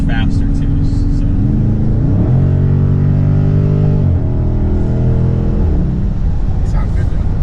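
Volkswagen GTI with a 2.0 turbo engine hums steadily while driving, its drone rising and falling in pitch as it shifts through gears, heard from inside the cabin with a continuous road rumble underneath.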